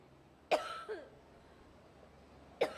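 A woman coughs twice, a few seconds apart, each time a short harsh burst with a faint throaty catch after the first, against a quiet room.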